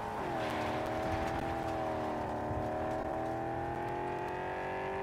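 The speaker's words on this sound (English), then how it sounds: "Oh, this car sounds are good." Steady engine drone of a car being driven in the video game Cyberpunk 2077, a sustained harmonic hum that dips briefly then holds level and loud throughout, with no talk.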